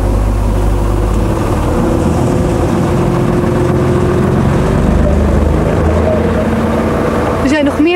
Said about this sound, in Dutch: Daarom hebben ze er nu een hulpmotor bij nodig.